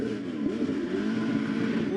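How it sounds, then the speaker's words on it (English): A loud, high-revving V8 drift car engine drones continuously on track during drift qualifying, pitch wavering up and down as it's pushed hard, with a faint rasp of tires underneath. "Mass Motorsports V8 under the thing. Listen to him firing off there."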